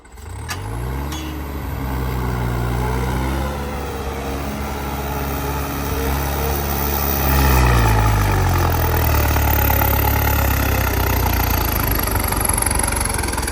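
A New Holland 5630 tractor engine runs steadily at close range, its low diesel throb rising in pitch and load around the middle before settling into a strong, even drone through to the end.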